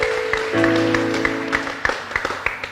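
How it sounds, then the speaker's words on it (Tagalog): Rhythmic clapping from a church congregation, steady beats over a sustained musical tone, fairly close and moderately loud. "Patuloy maluwalhati ang Diyos sa mga palakpak, papuring palakpak sa hapon po ito."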